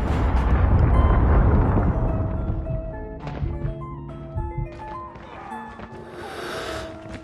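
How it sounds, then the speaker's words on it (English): A Predator missile strike in a video game erupts as a loud, deep boom whose rumble fades over several seconds, followed by thuds, short electronic tones and game sounds. "Predator missile inbound."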